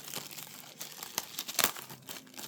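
Plastic shrink-wrap crinkles and tears as it is pulled off a Yu-Gi-Oh card display box, with close, quiet crackling bursts at an irregular pace and no talking.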